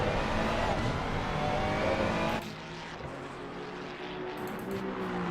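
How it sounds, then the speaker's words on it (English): A race car revs hard through its gears at a Laguna track sprint event: a loud, close engine roar drops suddenly partway through, then carries on at a lower, steady drone. "You're really able to drop down the gears in this and let it rev out."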